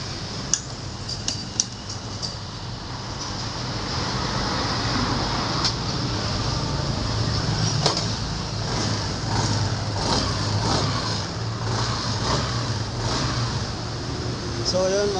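A Yamaha NMAX scooter engine starts after a fuel pump replacement and runs at a steady idle. A few sharp clicks come first, then a continuous low hum that lasts throughout, with ticking sounds on top.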